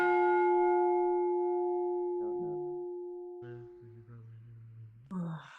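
A single bell in a roleplay video game rings out with a long, clear sustained tone that slowly decays, followed by softer tonal game sounds and a short noisy burst at the end.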